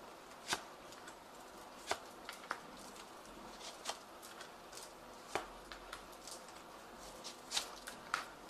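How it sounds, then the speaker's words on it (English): Tarot card deck being shuffled, quiet riffling and soft papery flicks punctuated by a series of sharp, irregular snaps of cards, close and faint against a hushed background. "I have shuffled this deck."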